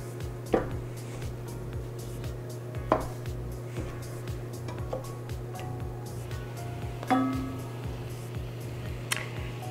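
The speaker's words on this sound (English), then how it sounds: "We'll break up our sausage into small pieces." Sausage being broken into small pieces in a pan over medium heat, with a faint steady sizzle and occasional sharp scraping taps of a utensil against the pan.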